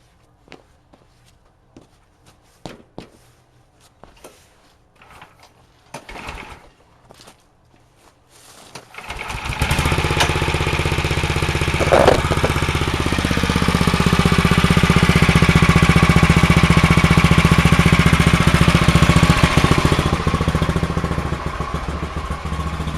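A Massey Ferguson race tractor and a generator cold start. Scattered clicks and clunks of cranking come first, then an engine catches and settles into a loud, steady, rough-running idle that carries on to the end.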